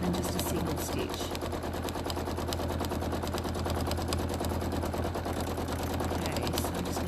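A sewing machine stitching quilting lines, running in a fast, steady, loud mechanical rattle of needle strokes that goes on without a break.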